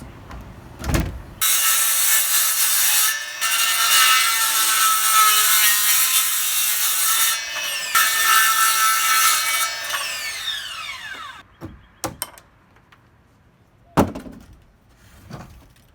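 A handsaw cuts a bevel into a wooden handrail post, sustained rasping strokes running steadily for about ten seconds before trailing off, followed by a few sharp knocks and clatters.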